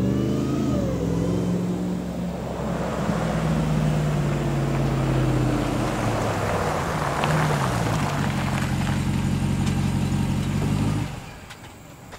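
A Ram TRX truck with stock exhaust runs its engine close by, a deep steady rumble with rising and falling revs for about eleven seconds before cutting off abruptly.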